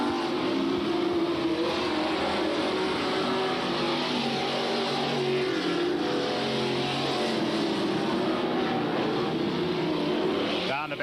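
Super stock race cars roar around an oval track at a 1993 event, a steady engine drone throughout, distant rather than close, with a commentator talking over it.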